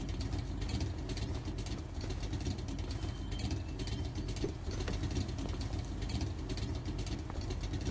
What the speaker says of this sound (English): Go ahead and shut the engine off real quick.